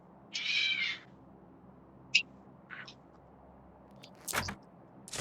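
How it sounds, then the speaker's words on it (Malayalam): A cat meows once, a drawn-out cry of about half a second, followed by a few faint, brief chirps and a scrape in an otherwise quiet room. "പൂച്ച ഇവിടെ."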